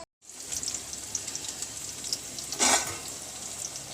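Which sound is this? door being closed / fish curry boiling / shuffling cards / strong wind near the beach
fish curry boiling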